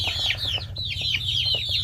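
Free-range village chickens on a Thai farm, a run of soft clucks and rising calls in quick succession, close and steady, with a low continuous hum underneath.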